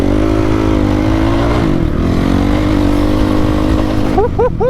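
A dirt bike engine with no exhaust gasket idles loud and close in a steady drone, then a few sharp exhaust pops and a short rev break through near the end.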